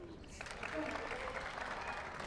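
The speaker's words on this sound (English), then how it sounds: "Big round of applause." Crowd applause at a pickleball championship in New York City, a steady wash of clapping from a gathered audience that rises and holds, with a voice talking over it.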